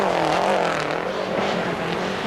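A Group B-era rally car, Peugeot 205 or Lancia Delta, roars steadily at a distance on a mixed gravel and tarmac circuit, its engine note rising and falling as it works through the gears.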